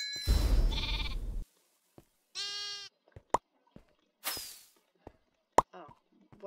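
Sheep in the Hypixel video game bleat a few times in short synthetic bursts, mixed with clicks, pops and other game effects, with no one talking.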